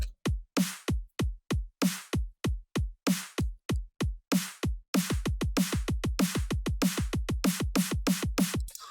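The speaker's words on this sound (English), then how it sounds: "I also layered the snare here, so it sounds a bit more powerful." Punchy electronic kicks and thick layered snares loop in a steady pattern, then pick up into a faster, denser run of hits.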